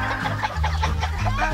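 Hens cluck in a busy, overlapping chorus at feeding time, loud and close, with low steady rumble beneath the continuous fowl calls.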